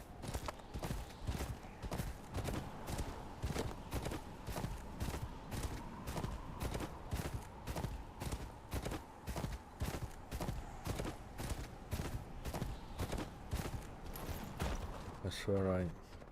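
Rapid, regular hoofbeats of a galloping horse in the video game Game of Thrones: Kingsroad pound on without a break, a steady rhythmic clatter that continues to the end.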